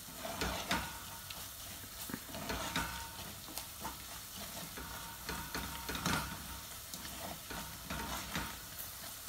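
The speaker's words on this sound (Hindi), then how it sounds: "अब हम इसके अंदर डाल देंगे हमारे सारे सूखे मसाले, लाल मिर्चे, धनिया, जीरा और हल्दी। इसको स्टर देंगे।" Dry spices of red chilli, coriander, cumin and turmeric fry quietly in a pan for cabbage keema, with a soft continuous sizzle broken by irregular scraping stirs and no talking.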